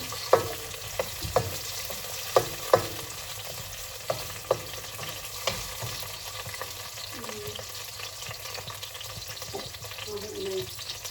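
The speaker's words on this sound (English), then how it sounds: "I'm going to put the sauce on." Sauce poured onto sizzling spicy broccoli in a hot pan, a steady frying hiss with several sharp louder pops and crackles scattered through, close and continuous, with no talking.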